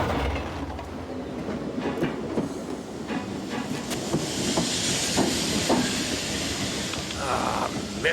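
A subway train in the Blake and Mortimer adventure game rumbles past loudly and continuously, with clattering wheels, hissing and rattling carriages filling the whole stretch and no voices.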